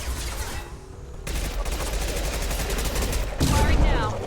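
Rapid bursts of automatic gunfire crackle in Mass Effect 2 combat, dense overlapping shots that drop briefly and then surge louder near the end, with a voice mixed in.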